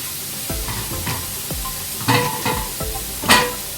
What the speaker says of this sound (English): I like the onions a bit caramelized, as you can see, coming along nice caramelization.